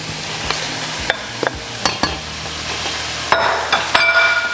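Chopped chicken tipped into a pan of hot salted seasoning, giving a steady close sizzle broken by several sharp clinks and stirring scrapes, with no talking.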